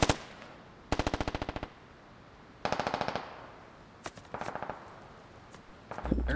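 Bursts of automatic gunfire in the video game Squad, several distinct rapid volleys with pauses between, moderately distant and crisp.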